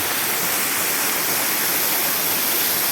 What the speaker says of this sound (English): Wow, wow, what a fresh waterfall.